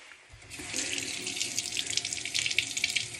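A tap runs into a sink while magnetic eyelashes are washed, the water starting softly and swelling into a steady, close splashing stream with no speech.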